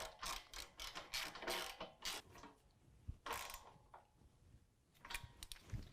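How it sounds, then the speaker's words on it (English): A ratchet wrench with a 13mm socket tightens carriage bolts while a Toyota Tacoma's running boards are installed, making quick bursts of clicking pawl ratchets in several runs with short pauses between them. "we're going to use a 13mm socket to tighten up our 2 carriage bolts"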